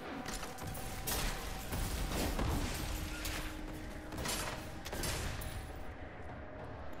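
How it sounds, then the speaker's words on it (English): Artillery fire in the game Diablo III, with repeated heavy booms and crackling blasts over a dense, steady roar of battle noise, loud throughout before thinning out at the very end. "Artillery!"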